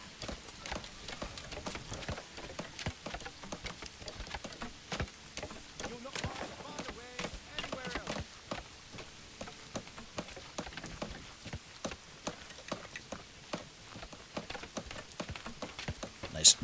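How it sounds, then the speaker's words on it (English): Rain falls in the medieval city-building game Manor Lords: a steady, dense hiss of drops patters on surfaces throughout, with scattered sharper taps that sometimes resemble hooves clopping. "I love rain sounds."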